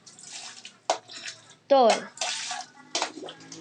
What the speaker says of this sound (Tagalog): lalagyan ko na ng tubig ang kaldero